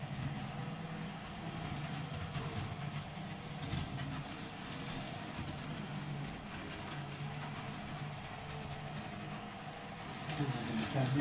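A model train rumbles steadily along its track with a continuous mechanical whir and faint clicking, nearby and fairly constant throughout.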